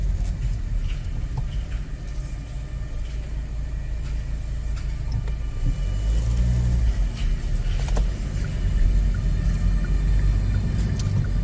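Fourth-generation Kia Sportage SUV driving, a steady low engine and road rumble from inside the cabin that swells slightly as it accelerates.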